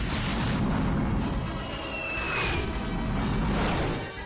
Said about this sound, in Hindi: तबाही वाला मिसाइल उड़ने को तैयार।